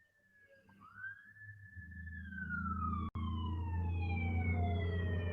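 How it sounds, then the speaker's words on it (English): An emergency siren, from a fire engine or police car, wails as the vehicle passes, its tone sweeping downward across the clip. A steady low engine and traffic rumble continues underneath, with no talking. "There's a fire or a police car flying by."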